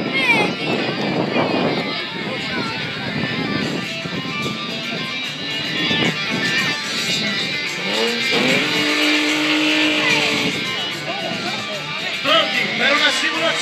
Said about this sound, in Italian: Sfida all'ultimo drift.